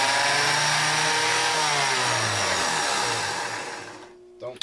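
A modified car starter motor repurposed for general use, spinning up with a loud, steady high-pitched whine and rising pitch for about four seconds before cutting off, followed by brief clunks.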